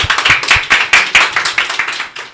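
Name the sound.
audience clapping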